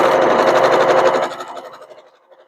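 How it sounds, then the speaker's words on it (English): A sewing machine stitches through the end of a fabric knot on a quilt bow tie block. The close, loud run of rapid needle strokes lasts over a second, then slows and fades to a stop. "I'm going to just sew through the end of that knot."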